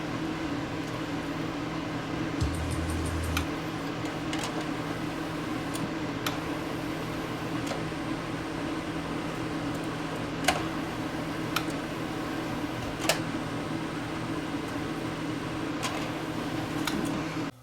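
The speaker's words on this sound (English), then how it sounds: "I think the belt is just slipping ever so slightly" A machine with a slightly slipping drive belt runs with a steady low hum and broadband whir, with faint irregular ticks and a few sharper clicks scattered over the run.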